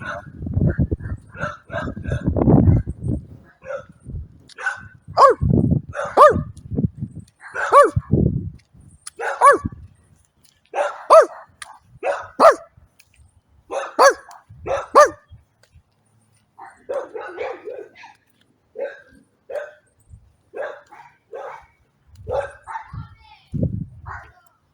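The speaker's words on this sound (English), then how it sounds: "Those dogs are usually not there." Several dogs bark in a lively, overlapping run of yips and barks, close and loud at first and then settling into sparser, lighter barking.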